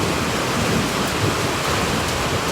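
Steady heavy rain pours down at a farm with a thunderous, rumbling low undertone, a dense continuous wash of noise with no gaps and no voices.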